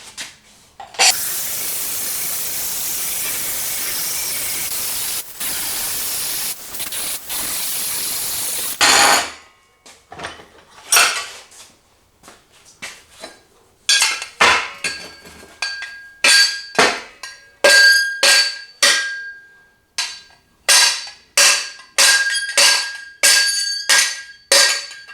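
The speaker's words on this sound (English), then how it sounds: "We're going to grind through that weld and then the 4 rings should just essentially fall out." An angle grinder cuts through a weld on an exhaust header collector, starting with a loud, continuous harsh grinding whine for about eight seconds, then breaking into a series of short, bright bursts of grinding contact with brief pauses between.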